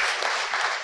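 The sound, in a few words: audience applause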